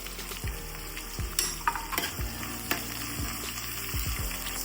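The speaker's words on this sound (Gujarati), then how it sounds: "ગાજર એડ કરી દેવાના છે" Green chillies and carrots fry for Kathiyawadi sambharo, a constant soft sizzle broken every second or so by the knock and scrape of a spoon stirring in the pan, close by and without talk.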